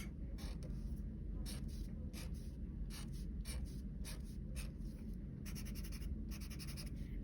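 A pen or pencil drawing a picture on paper, with repeated short scratchy strokes in irregular bursts, close and quiet over a steady background hum.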